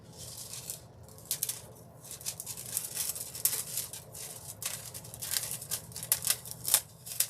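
Scissors snip through a small piece of translucent foil in a run of short, crisp cuts with brief pauses between them, close and fairly quiet.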